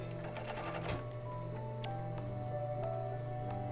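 A sewing machine stitches a blind hem on a sweater dress, a quiet steady motor hum with faint rhythmic needle clicks and a few sharper ticks, heard alone without talk.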